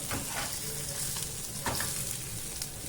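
Corn flour coated fish shallow-frying in oil in a pan, a dense, steady sizzle and crackle heard close up with no voices.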